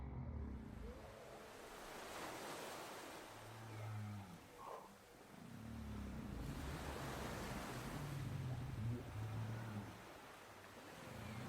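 Ocean waves wash in as a soft, steady surf roar with slow swells rising and falling, faint and without talk.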